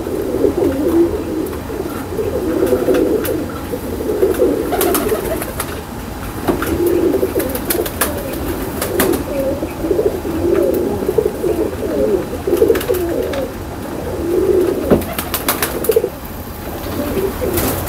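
Highflyer pigeons coo in a loft, a steady chorus of soft, rolling, repeated coos close by, with occasional clicks and rustles of wings.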